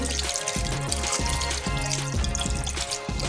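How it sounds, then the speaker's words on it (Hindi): Water pours into a pot of 1 kg minced meat with chopped onion during home cooking, a steady continuous splash lasting a few seconds over rhythmic background music. "अब मैं इसमें ½ kg जो है इसके अंदर पानी डालूँगी।"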